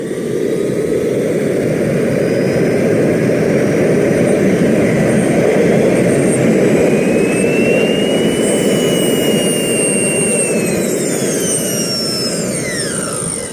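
An RT130 model jet turbine engine runs in a garage, a loud, steady high-pitched roar with a whining tone that holds throughout without pause.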